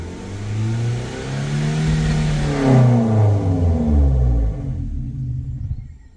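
A Suzuki Baleno engine revs hard under acceleration with a loud rising rumble and climbing harmonics, then drops off abruptly as it cuts out, leaving a faint tail.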